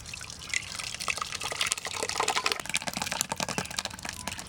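Mango pulp, mashed by hand in a basin for Bengali aamsotto, is poured through a sieve, giving close wet dripping and trickling with soft scraping clicks throughout.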